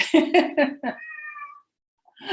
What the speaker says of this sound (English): They want out, but we're not letting them out after dark. So there's two cats here.